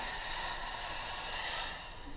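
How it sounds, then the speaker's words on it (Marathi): Milk poured into a hot pan of ghee-roasted grated pumpkin, producing a loud continuous steamy hiss and sizzle that holds steady, then eases slightly at the end. "आपण ह्यात आता दूध ओतून घेऊया।"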